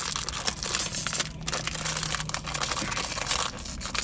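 Plastic blind-bag packaging for a Godzilla figural backpack clip crinkles and crunches continuously as hands try to tear it open without scissors, close and moderately loud with no talk.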